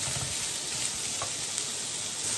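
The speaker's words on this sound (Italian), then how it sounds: "ho messo della salsiccia che ho tolto il budello, con una forchetta l'ho schiacciata senza olio, senza niente, e la faccio rosolare" Crumbled sausage browning in a hot pan with no oil, giving a loud, steady, close sizzle that never lets up, with a faint scrape partway through.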